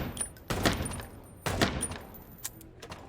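Video game gunfire from Chicken Police, two sharp loud bursts about a second apart followed by a softer shot, each ringing briefly against a quiet background.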